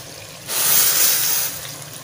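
Water poured from a glass into a pot of chicken kofta gravy, a brief close splashing gush lasting about a second before tapering off.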